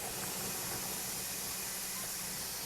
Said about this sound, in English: We now have a steady stream of steam coming out of our vent pipe